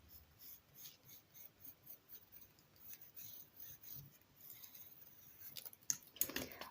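Scissors cut a rounded boot shape from paper or cardboard for a homemade nutcracker soldier Christmas decoration, a quiet, steady run of short rasping snips that grows a little busier near the end.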